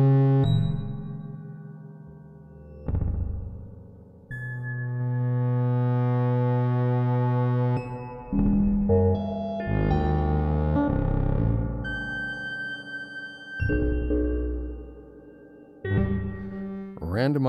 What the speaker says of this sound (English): Add some yummy spring reverb.